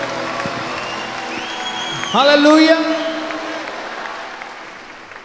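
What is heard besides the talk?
crowd applauding at worship service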